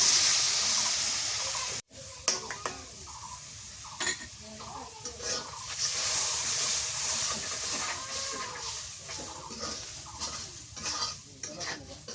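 A little water added to a hot pan with a dry ground spice mix, cooking a traditional home-style dish, gives a steady sizzling hiss with stirring scrapes. There is a sharp break near the start, and the frying continues close and fairly loud.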